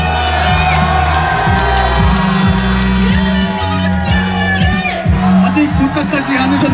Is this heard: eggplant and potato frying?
no